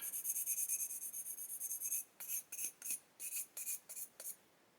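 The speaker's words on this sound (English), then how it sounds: "as you can see I'm rolling the stick around, I'm not just concentrating on any one area" A sanding stick rubs over a 1/32 scale A-20G Havoc model aircraft with a soft, high scratching sound. A long continuous pass is followed by about eight short, quick strokes, close and faint, with no talking.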